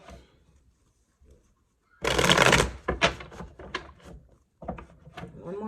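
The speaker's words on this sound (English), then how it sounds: "I'm going to shuffle one more time" Tarot cards being shuffled by hand, a quick burst of riffling followed by softer flicks and taps, close and moderately loud with quiet pauses between.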